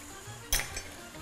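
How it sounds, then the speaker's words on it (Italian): A lid set back onto a pan of roasting chicken drumsticks gives one sharp metallic clink midway, with a slight ringing tail over a quiet kitchen background. "Rimettiamo il coperchio,"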